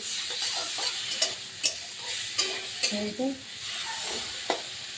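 Shrimp stirred in a hot pan for a ridge gourd paste dish: a steady close sizzle with irregular scraping strokes of a spatula against the pan every second or so.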